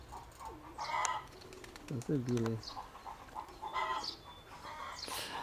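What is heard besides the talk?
pigeons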